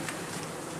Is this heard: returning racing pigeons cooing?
no